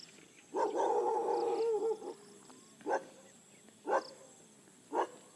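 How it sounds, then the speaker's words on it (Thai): A pet dog indoors at home lets out one drawn-out whining bark, then three short single barks spaced about a second apart, close and clear with no talking. "จะเห่าอะไร"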